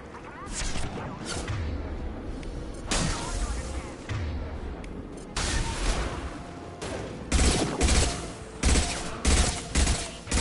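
Gunfire in the video game Mass Effect 2, with bursts of shots and booming impacts scattered across a noisy battle, some blasts loud and close, others further back, with voices talking over the fighting.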